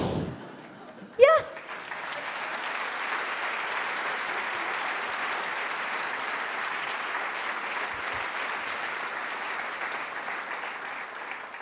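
A sharp bang or mic thump is followed by a comedy crowd breaking into long, even applause that stays steady for about ten seconds, with a little laughter mixed in.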